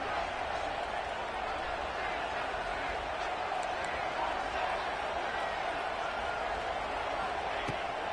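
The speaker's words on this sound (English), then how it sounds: "The crowd electric, trying to help Tech on this third down." Dense, steady roar of a packed college football stadium as the home crowd for Texas Tech makes noise on a third down, a continuous wash of voices with a few sharp thuds and claps under it.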